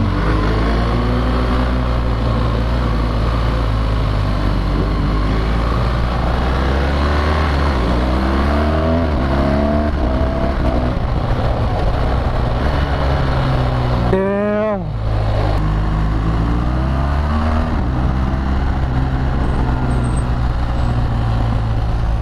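A BMW R1200GS Adventure motorcycle rides and filters through traffic, its engine droning loud and close with rising and falling revs through gear changes, joined by wind noise.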